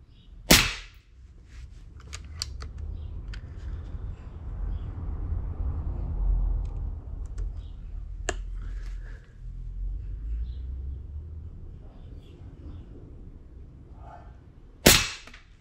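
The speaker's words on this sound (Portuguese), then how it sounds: "Slug de 20 mais 5 disparos, distância de 10 metros." A Leviathan 5.5mm air rifle fires Slug Monster 20-grain slugs at a target 10 metres away. Two sharp, loud cracks stand at the start and end, with a low rumbling background and faint clicks in between.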